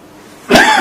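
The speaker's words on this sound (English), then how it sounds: "And please forgive the coughing." A single harsh cough bursts out close to the microphone after a moment of quiet.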